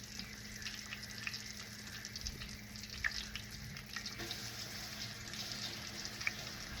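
Pork chops frying in a pan for old-school pork chop sandwiches, a faint, steady crackling sizzle with occasional small pops, heard from a short distance.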